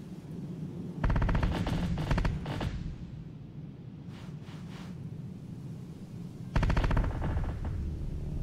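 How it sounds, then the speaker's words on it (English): A tank fires in the Terminator Dark Fate video game, heard as two loud bursts of rapid, rattling gunfire over a constant low rumble, with a quieter patter of shots between them. "My tank shooting?"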